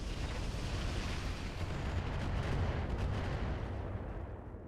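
Missile impacts pound a mech in the video game RogueTech, a dense, continuous roar of overlapping blasts and rumbling explosions that stays loud throughout and eases slightly at the end.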